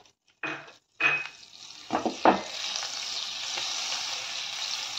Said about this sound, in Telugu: ఇలాగా రెండు వైపులా బాగా ఫ్రై అయ్యేలాగా ఫ్రై చేసుకుందాం